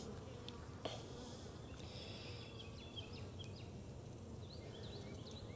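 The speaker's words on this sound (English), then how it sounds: "There's a lot of bees" Honeybees buzzing around an open backyard hive in Jacksonville, Florida, a continuous close drone of many wings with brief louder passes and faint bird chirps in the background.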